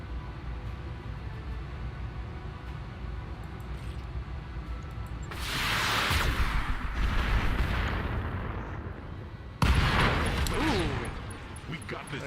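Video game combat with a Banshee aircraft: rumbling gunfire and artillery-like booms, then two loud bursts of explosion noise, the second sharp and sudden, with a voice talking over the battle.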